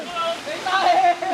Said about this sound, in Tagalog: Oh, talon na, talon na, talon na.